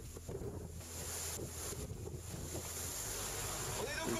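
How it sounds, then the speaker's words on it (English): A Vendee Globe racing sailboat running fast downwind, a constant loud rush of wind buffeting the microphone over hissing spray and water noise, with no pause throughout. "We're sailing downwind, going rather fast."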